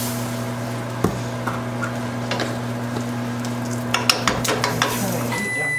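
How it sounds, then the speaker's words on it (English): Spices for enchilada sauce are stirred while heating in a pan, with a low steady sizzle broken by scattered scrapes and clinks of a utensil against the pan. "We're going to stir this around because I don't want it to burn."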